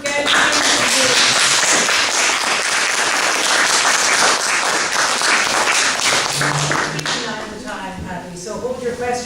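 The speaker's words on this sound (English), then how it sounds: "A round of applause for Gary." Audience applause for Gary at the Margaret Maher Award event in Amherst, loud and sustained with dense clapping, tapering near the end as voices and a few scattered claps emerge.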